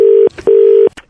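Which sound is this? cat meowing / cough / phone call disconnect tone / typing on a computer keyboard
phone call disconnect tone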